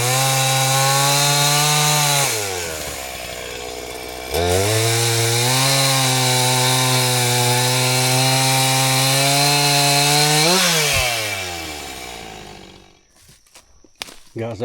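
A chainsaw cuts firewood, its engine droning loud and close, dipping in pitch under load during cuts and revving back up, then winding down to a few knocks and handling sounds.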